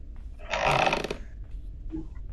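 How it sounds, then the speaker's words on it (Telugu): A single drawn-out, groaning wooden floor creak from the Granny horror video game rises loudly for about half a second, then fades to faint game ambience. "ఫ్లోర్ క్రీకింగ్ సౌండ్స్, వీటి వల్ల మాత్రం ఓవర్ గా సౌండ్ వస్తుంది."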